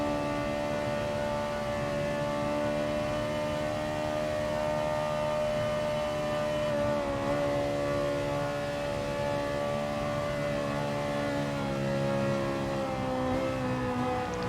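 Race car engine in Gran Turismo Sport during an FIA Manufacturer online race, a loud sustained high-revving whine held almost constant throughout, with slight pitch wavers from gear changes and no talk.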